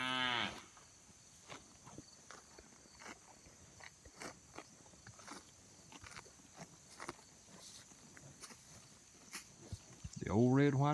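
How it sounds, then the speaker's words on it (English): Red white-faced Hereford cattle low in long, deep moos at the start and end, loud and near, with scattered footsteps and chewing sounds between them. "Old red white face Herefords."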